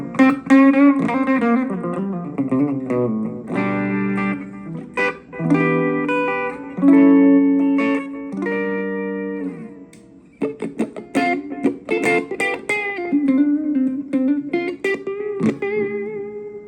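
Electric guitar through a Shark Draft Time DL-1 delay pedal, notes and chords ringing out with lingering trailing repeats, clean and fairly close, shifting between sustained chords and quicker picked passages.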